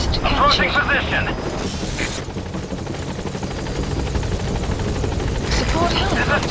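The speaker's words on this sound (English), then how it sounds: "Support helicopter has arrived." Support helicopter arriving in MGSV: The Phantom Pain, a loud rotor roar and rumble that dips in the middle and swells again, with game voices over it.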